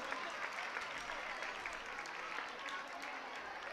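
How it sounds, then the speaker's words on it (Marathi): An audience at a devotional Ramayana song event claps steadily in a dense, continuous round of applause, heard from some distance with a voice faintly underneath. "टाळ्या झाल्या पाहिजे, टाळ्या झाल्या पाहिजे"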